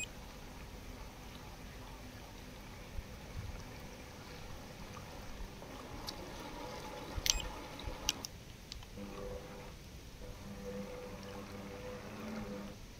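A small Chinese bait boat's electric motor hums low and steady at top speed on the water, faint and continuous with light splashy textures and a few clicks.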